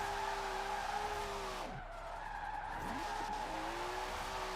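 A Nissan Skyline R34 drifting in Forza Horizon 4, its engine droning steadily under continuous tire screech, with a couple of sharp dips and rebounds in engine pitch as the car shifts angle, no talking.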